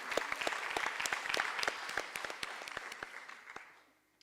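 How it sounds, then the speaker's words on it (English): Audience applause for dance students at an arangetram, a dense burst of clapping that holds steady and then thins out toward the end. "Let's give NSOD students another round of applause."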